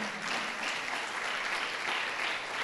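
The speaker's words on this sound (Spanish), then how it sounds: "Denle un aplauso al Señor" A church congregation claps steadily throughout, a dense and even wash of applause at moderate volume.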